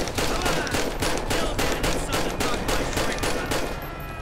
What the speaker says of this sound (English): I didn't mean to shoot him.